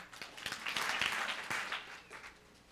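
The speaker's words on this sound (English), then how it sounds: "can you clap 3 times?" A crowd claps together, a burst of applause that swells and then fades out; the individual beats blur rather than landing as three distinct claps.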